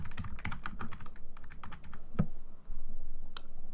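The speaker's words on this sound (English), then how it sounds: "so we'll type that in." Keys on a computer keyboard are tapped in short, uneven bursts while a Steam game key is entered, close by and fairly quiet, with pauses and one louder clack between runs.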